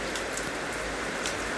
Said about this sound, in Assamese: এতিয়া বৰষুণ ধাৰাসাৰ বৰষুণ চাওক পূৰা বৰষুণ দিলে